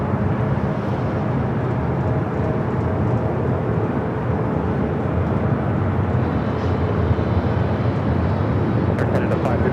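Jet airliner on approach to land at Los Angeles International Airport, a steady broadband engine roar that holds at a constant loud level throughout, with no other distinct sounds.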